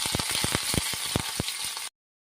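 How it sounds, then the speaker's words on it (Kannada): Mustard seeds and curry leaves sizzle and crackle in hot tempering oil for a mango curry, with a steady loud hiss broken by quick popping bursts, ending abruptly in silence. "ಈಗ ಸಾಸಿವೆ ಮತ್ತು ಒಗ್ಗರಣೆ ಸೊಪ್ಪು ಹಾಕೋಣ"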